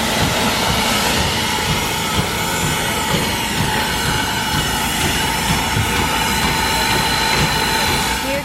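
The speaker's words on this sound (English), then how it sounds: "It's a choo-choo train." A restored steam train at Strasburg Rail Road hisses and rumbles loudly and steadily nearby, a dense broadband roar with faint rhythmic clatter throughout.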